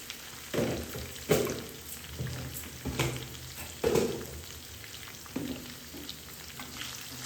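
Cumin seeds crackle and sizzle in hot oil during tempering, with short bursts of popping and stirring over a steady frying hiss. No one talks.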